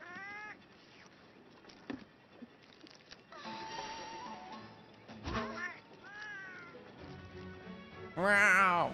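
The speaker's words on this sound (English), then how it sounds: "I love all the cat noises, they're cute." Cute cartoonish cat meows from Felyne companions in the video game Monster Hunter World, several rising-and-falling calls over game music and effects, with a louder, higher burst near the end.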